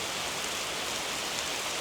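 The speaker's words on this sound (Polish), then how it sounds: "No cóż, deszczyk. Lipcowy deszcz jeszcze nikomu nie zaszkodził." Steady July rain falls outdoors, a constant even hiss of drops with no breaks or other sounds.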